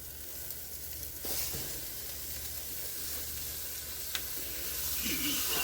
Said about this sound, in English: You want to just go ahead and brown this up.